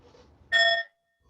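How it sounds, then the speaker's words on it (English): A mindfulness bell is invited to sound once, giving a single clear ringing tone that holds briefly and then cuts off, with quiet before and after. "Invite one sound of the bell"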